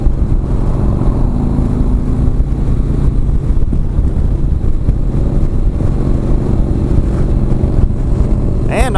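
A Harley motorcycle engine runs loud and steady throughout, a continuous close rumble with heavy wind buffeting over it, rising slightly in pitch near the end as it revs.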